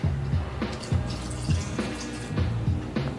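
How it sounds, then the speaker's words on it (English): Sauvignon Blanc white wine poured into a pot of garlic and diced tomatoes, heard as close, irregular liquid splashes and drips falling in a loose rhythm. "And I am going to pour in the wine."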